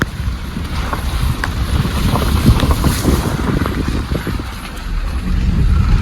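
Loud, continuous rushing of floodwater pouring over the full Chambli stream causeway, with gusty wind buffeting the microphone throughout.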